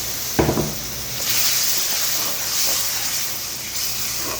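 Chopped tomatoes land in a hot pan for achari mix sabzi with a sharp thump, then a steady broad sizzling hiss that rises and holds, close and fairly loud, with no talk.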